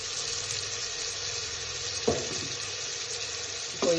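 Chopped tomato sizzling in oil with ginger garlic paste for chicken biryani, a steady close frying hiss with two brief stirring clatters.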